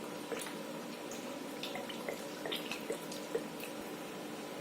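Water is poured over a chocolate sponge cake, heard as soft, close trickling with scattered light drips and splashes over a faint steady background.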